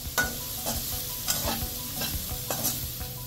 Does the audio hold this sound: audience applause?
no